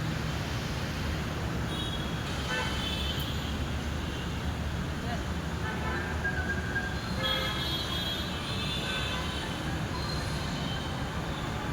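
A metro train rumbles steadily at a station with broad low noise and occasional high metallic squeals, heard from inside or close to the carriage.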